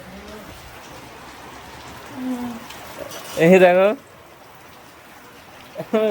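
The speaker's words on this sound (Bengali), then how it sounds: "এই জোরে জোরে বৃষ্টি হচ্ছে" Heavy rain pours steadily outdoors as a soft, constant hiss in the background, while people speak briefly over it.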